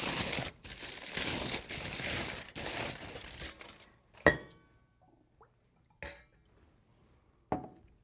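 A package being unwrapped for a homemade bacterial yogurt experiment: several seconds of close, steady crinkling of wrapping, then quiet with a few sharp isolated crackles and taps.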